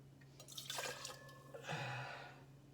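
Bourbon pours into a measure for a milk punch in a quiet home setting, a soft, close trickle with a couple of faint splashes lasting about two seconds.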